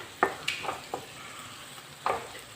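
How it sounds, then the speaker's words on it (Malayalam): Chopped onions fry in coconut oil for chicken kadai, giving a soft sizzle broken by a few sharp spoon knocks and stirring scrapes, with no voices. "ഇനി നമുക്ക് ഈ വെളിച്ചെണ്ണയിലേക്ക് സവാള അരിഞ്ഞതിട്ട് കൊടുക്കുക"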